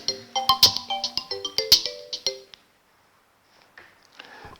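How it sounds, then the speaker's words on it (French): Telephone ringing with an incoming call during a live radio call-in broadcast, a rapid series of bright electronic ring tones for about two seconds, then near silence with faint sounds at the end. "Ah, on a un appel."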